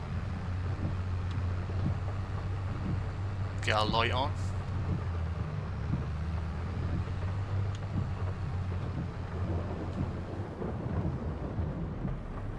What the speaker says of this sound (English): The rain is a-coming down